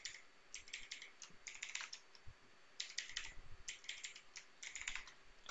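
Fingers type a password on a computer keyboard while setting up a D-Link DIR-615 router, giving close, quiet bursts of rapid key clicks separated by short pauses, with no talk.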